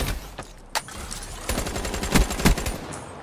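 The Razorback gun fires in Black Ops 3 team deathmatch, a scattered series of sharp, close gunshots in short bursts with several louder cracks toward the end.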